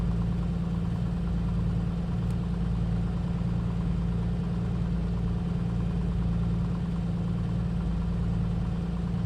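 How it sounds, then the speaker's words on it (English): A Piper Comanche aircraft engine in a flight simulator drones steadily and running rough, a continuous low hum at moderate level with no talk over it. "The engine's sounding a little rough, just a little rough."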